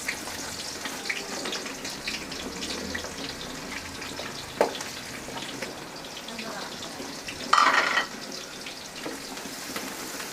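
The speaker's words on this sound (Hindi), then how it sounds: "तो अब हम इसमें ये प्याज डालेंगे।" Onions dropped into hot oil in a pan, giving a steady broadband sizzle with a louder splash-like burst near the end.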